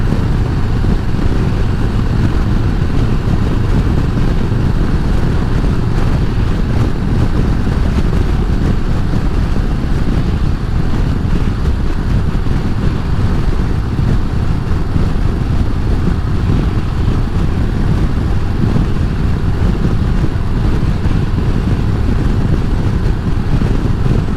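Steady roar of a motorcycle engine blended with heavy wind buffeting on the rider's microphone, loud and continuous throughout with no talking.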